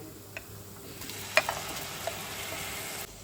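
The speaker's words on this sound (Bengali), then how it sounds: "এই সময় আমি এই যে ছোট ছোট টুকরো করা চিংড়ি মাছটা দিয়ে দিচ্ছি এর ভেতরে" Small shrimp pieces going into a pan of frying spice masala, with a soft continuous sizzle, a few light clicks and scraping stirs, fairly quiet and close.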